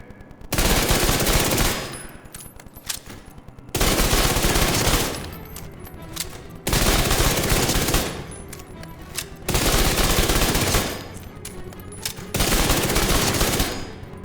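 Submachine gun fire in the Division 2 video game, loud sustained automatic bursts of roughly two seconds each, repeating in a steady cycle with short lulls between them.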